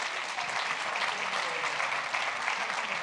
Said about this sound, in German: bitte um einen kräftigen Applaus.